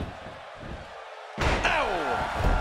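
A wrestler is slammed to the mat in the WWE 2K16 video game with a sudden heavy impact midway through, followed by sustained crowd noise and game commentary.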